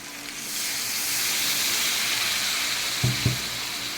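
Water poured into sizzling fried mixed vegetables gives a loud, steady, steamy hiss that swells and holds, with two short knocks near the end, close up.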